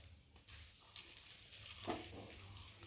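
Bay leaves drop into hot white oil in a wok, a faint, quiet sizzle and light crackle that grows slightly in the second half.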